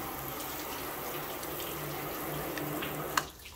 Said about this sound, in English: Good water sheeting.